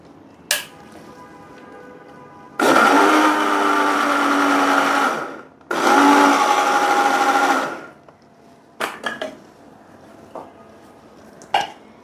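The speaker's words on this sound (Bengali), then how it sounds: "আমি দইটাকে ব্লেন্ড করে নিচ্ছি।" A tiny electric grinder whirs loudly in two bursts of about three seconds each, blending yogurt in a kitchen, followed by a few clinks and knocks of handling.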